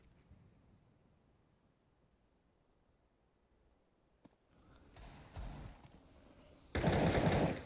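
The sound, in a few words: gunfire in Counter-Strike video game match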